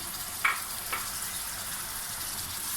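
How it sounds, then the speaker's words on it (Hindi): Chopped tomatoes dropped into frying masala for bhindi salan, with a couple of soft clinks of a spoon over a faint, steady sizzle. "इसको मैं थोड़ा सा चलाऊंगा चमचा, और इसके साथ ही मैं इसमें कटे हुए टमाटर चॉप किए हुए डाल दूंगी।"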